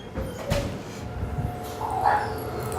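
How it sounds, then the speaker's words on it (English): Dogs bark in the distance, with scattered yips and barks rising and falling amid background noise. "All the other dogs are barking."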